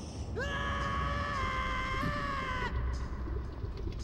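A character in the video game Ocarina of Time lets out a single sustained scream of roughly two seconds, loud over a constant game background that continues after it stops.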